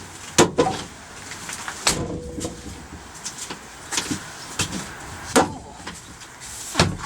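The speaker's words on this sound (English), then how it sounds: "This door mechanism needs greasing." A door on a Mk3 Ford Cortina estate car creaking and clunking through its dry, ungreased mechanism, a few sharp knocks and squeaks spread across several seconds, close by, with rain in the background.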